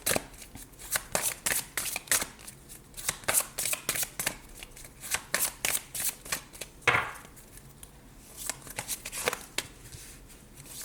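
Tarot cards being shuffled for a reading, a steady run of crisp riffling bursts close by with short pauses between, one louder whoosh midway, and no talking over it.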